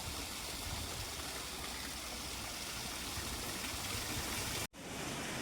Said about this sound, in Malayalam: ഇവിടുന്ന് കുറച്ച് വെള്ളം ഇങ്ങനെ വീഴുന്നതാണ്